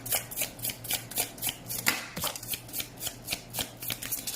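Hush Tarot cards being shuffled by hand at close range, a rhythmic series of soft riffling bursts repeating roughly every half second over a low steady hum.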